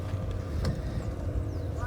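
Steady low engine rumble of a motorboat on a swamp, with wind noise, a brief knock partway through, continuous and fairly close.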